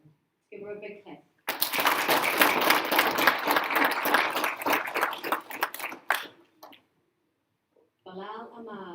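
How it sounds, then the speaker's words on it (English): Applause from an audience at a junior school prize-giving, a steady dense burst of clapping lasting several seconds between short stretches of a nearby voice speaking. "Let's give her a big clap."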